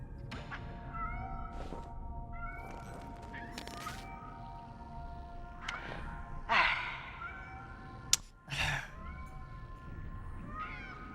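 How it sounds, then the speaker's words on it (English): Cats in the video game Nine Sols give a series of short meows and sighing cries, spaced out against a quiet ambient backdrop, with one sharp click partway through. "look at the kitty cats"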